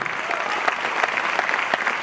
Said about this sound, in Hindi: आपकी डायमेंशन के लिए तालियां बजाइए